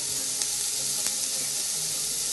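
Vegetables for oats khichdi steam and sizzle in a pan over low gas, a steady hiss with a couple of faint clicks, heard alone.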